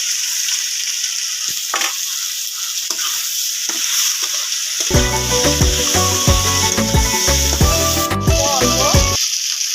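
Potatoes and eggplant sizzle in hot oil with tomato and cumin, starting faint and then bursting into loud, crackling frying with stirring scrapes.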